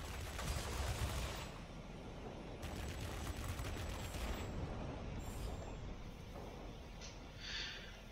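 Rapid bursts of 20mm cannon fire from a World of Warplanes attack aircraft rattle over a continuous, dense engine roar, loud and close, with no voices.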